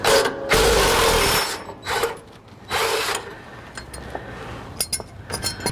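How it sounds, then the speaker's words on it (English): A DeWalt impact gun, used while installing a bumper and light bar on a 2018 Ford Raptor, fires in two loud ratcheting bursts, followed by softer clinks and mechanical handling noises. "That DeWalt gun is pretty damn strong."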